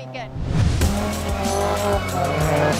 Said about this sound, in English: the sound of screeching tires, smell of burning rubber and sight of sliding cars